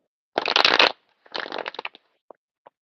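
A deck of reading cards being shuffled, heard as a quick papery burst followed by a shorter riffle and a few soft isolated taps as cards settle, close and clear with no talking.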